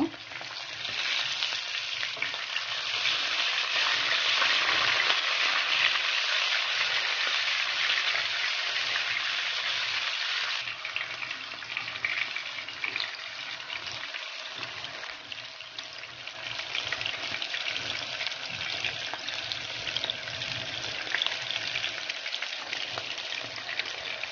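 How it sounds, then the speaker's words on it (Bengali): Fish for a fish curry frying in hot oil in a pan, a loud, steady hiss and sizzle with scattered pops that softens slightly midway and carries on without any talk. "আমার মাছ ভাজা হয়ে গিয়েছে"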